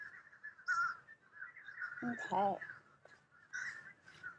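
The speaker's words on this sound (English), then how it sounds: "get all the birds coming." Birds calling outdoors, with crow-like caws and honking calls repeating in short bursts, fairly faint and distant, mixed with a person speaking.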